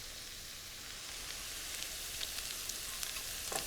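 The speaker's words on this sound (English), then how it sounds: "Just give that a quick saute." Garlic, chopped scallions, sausage and mushrooms sauté quickly in a pan, giving a soft, even sizzling hiss that swells slightly with faint crackles toward the end.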